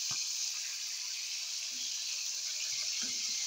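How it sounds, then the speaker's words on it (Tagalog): Dried talakitok fish frying in oil, a steady, even hiss of sizzling close by, with a few soft low knocks and no speech. "nagpiprito ako ng ano, dried fish, yung bulad. Talakitok."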